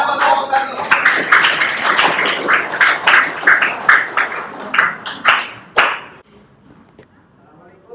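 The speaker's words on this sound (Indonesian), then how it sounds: "Tepuk tangan buat kelompok satu" A classroom of students claps for the first presentation group, a burst of dense rhythmic applause that builds and then cuts off, with quiet room noise afterward.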